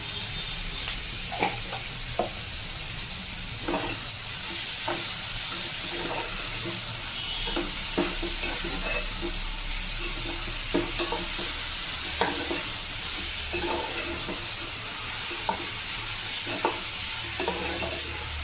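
Broad beans cook in a pan with turmeric, salt, green chili, coriander, mint and ginger-garlic paste, a constant frying sizzle punctuated by repeated light taps and scrapes of a spoon stirring.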